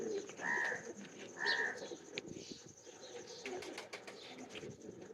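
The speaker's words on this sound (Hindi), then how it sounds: "ये कबूतरी देखने वाली है" Female Rampuri teddy pigeon giving soft, low coos, a couple of distinct calls near the start over a busy background of faint chirps, rustling and distant murmur.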